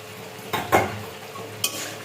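Water splashes into a hot pan of Bengali fish curry (macher jhol) with tomato, giving a few short hissing bursts and clatter close by, with no talking.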